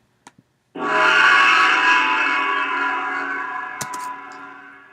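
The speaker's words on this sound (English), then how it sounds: "Then there's a gong, which sounds like this." A built-in MATLAB gong sound effect strikes once and rings on as a bright, sustained metallic shimmer that slowly fades, preceded by a couple of faint clicks.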